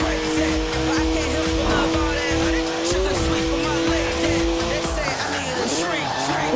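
A 3-litre twin-turbo straight-six car of 335 horsepower drifts in Forza Horizon 4, its engine droning loud and steady with tire squeal, the pitch rising and dipping as it slides sideways, with a voice speaking over it.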